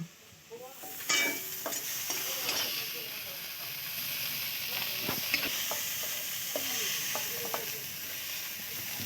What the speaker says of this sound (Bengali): দেখো চিংড়ি মাছগুলো প্রায় আমার ভাজা হয়ে গেছে